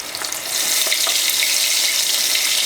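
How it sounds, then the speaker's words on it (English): A loud, steady sizzle and crackle of chicken frying in hot oil, continuous and close up, with no talking. "Let that stuff get to fry."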